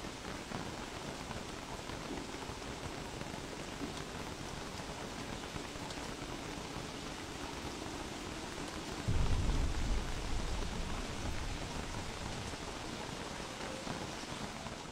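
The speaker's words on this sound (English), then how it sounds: "I do love the rain." Rain falls in a video game, a steady dense patter on surfaces throughout, with a brief deeper rumble swelling partway through; no one speaks.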